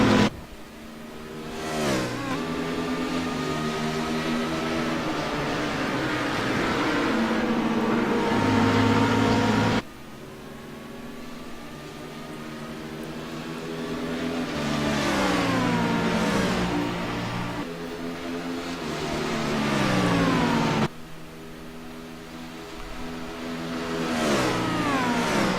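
Race cars, among them a BMW, accelerate down the front stretch of a circuit in a loud, sustained engine roar that rises in pitch and drops abruptly at gear changes, with cars passing in succession.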